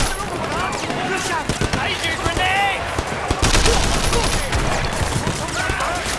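Bursts of gunfire crackle in the Sleeping Dogs action video game, sharp shots repeating irregularly over a busy mix of game sound while a player talks throughout.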